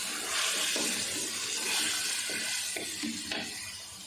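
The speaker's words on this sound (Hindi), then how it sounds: "चिकन को 2 से 3 मिनट अच्छे से हमने भून लिया।" Half a kilo of chicken with onions, ginger, garlic, bay leaves and black cardamom sizzles and fries in a pot for a chicken chana pulao. Close, steady hissing is broken by several stirring scrapes, with no talking.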